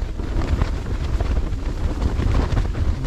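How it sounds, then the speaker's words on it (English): Strong Arctic wind of about 70 km/h on a snowy spring tour in Finland, roaring steadily and loudly with heavy buffeting rumble against the microphone and no let-up. "It's still windy, almost windier."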